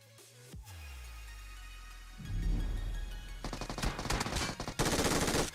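Gunshots ring out in a PUBG esports match, ending in a headshot. A lone loud crack is followed by a pause, then dense rapid-fire machine-gun bursts that build to loud volleys.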